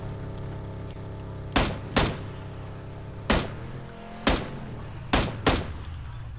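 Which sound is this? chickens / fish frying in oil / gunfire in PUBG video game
gunfire in PUBG video game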